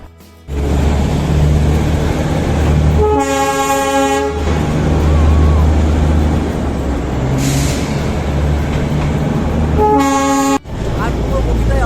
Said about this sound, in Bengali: আর আমরা যাচ্ছি ডিজেল ইঞ্জিনে